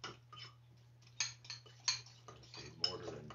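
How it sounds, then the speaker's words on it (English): A fork clinks against a bowl while mixing sauce, with a few sharp metallic taps and light scraping amid quiet kitchen sounds and a low steady hum. "I have a fork, so you could just mix it with a fork."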